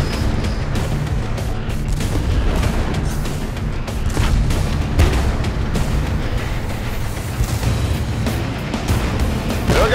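Tank cannon fire in a two-versus-one video game battle: loud, dense booms overlapping in quick succession over a continuous heavy rumble, with sharp blasts recurring throughout.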